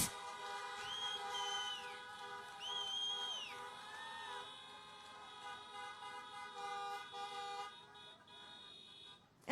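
Car horns honking at an outdoor get-out-the-vote rally in Florida, several overlapping toots and long blasts in waves, fairly distant and layered over one another.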